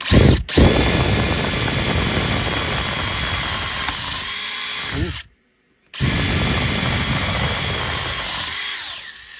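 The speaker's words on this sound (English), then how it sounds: "My new favourite drill." A power drill whirs loudly at high speed, dropping out briefly for a moment of silence, then spinning up again and winding down.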